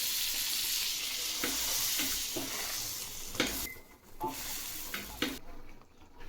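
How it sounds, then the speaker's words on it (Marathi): Pav bread toasts in butter on a hot tawa, giving a soft, steady sizzle with scraping and pressing sounds of a spatula at intervals, fading quieter toward the end; no speech. "आणि पाव भाजून घेऊ."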